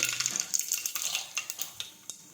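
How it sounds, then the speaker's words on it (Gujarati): Mustard seeds and cumin crackle and sizzle in hot oil, with sharp close pops and a steady frying hiss broken by light stirring clicks. No voices. "હવે આપણે તેમાં રાઈ અને જીરું નાખી દઈશું"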